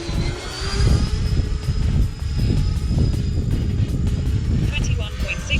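A discontinued remote-control model jet flying in gusty wind, its thin turbine whine steady at a distance with wind buffeting loud across the microphone.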